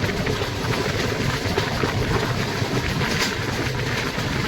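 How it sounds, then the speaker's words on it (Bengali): A Howrah–Agra Cantt train moving slowly around a curve through the Manikpur range in Uttar Pradesh gives a steady, close, low rumble with a broad rushing noise and no pauses. "খুব সুন্দর একটা কার্ভ নিয়ে ট্রেন ধীরে ধীরে অগ্রসর হচ্ছে"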